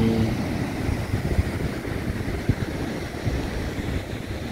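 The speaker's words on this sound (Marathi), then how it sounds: "मस्त समुद्र, समुद्र पाणी बघा" Steady wash of ocean surf on a Konkan beach near a coastal temple, with gusty wind buffeting the microphone, a continuous broadband roar with no voices.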